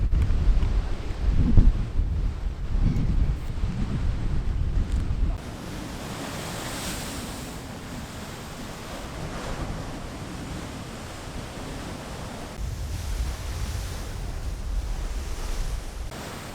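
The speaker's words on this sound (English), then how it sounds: "So the sounds of the waves or the wind." Ocean waves and wind on a beach: rushing surf surges loud at the start, drops to a softer steady wash, then swells again near the end, with wind buffeting the microphone throughout.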